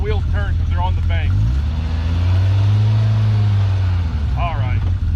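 A PRO R off-road vehicle's engine swells and drones loudly up close as it climbs a dirt bank on a black trail, a sustained low roar with people talking over it at the start and end.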